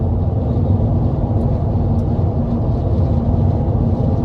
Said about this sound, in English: Just a little bit of wind noise, but road noise not terrible.